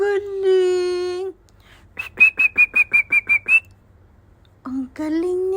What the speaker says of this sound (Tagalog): Ang magsipol-sipol, may tono.